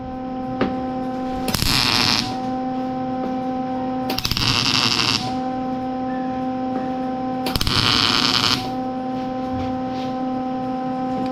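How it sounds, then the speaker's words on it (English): Spot welding a patch panel into rust repair on a 1970 Chevelle: three close bursts of buzzing, crackling arc welding, each about a second long, separated by pauses filled with a steady electrical hum. "So when I push this down and weld it in"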